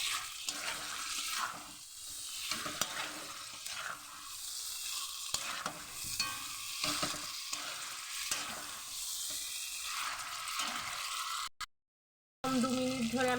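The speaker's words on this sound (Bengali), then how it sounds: "এরকম আমি 2 মিনিট কষিয়ে নেব," Chicken stir-fried in a pan with no water added, loud sizzling broken by repeated scraping stirs of a utensil, briefly cutting to silence near the end.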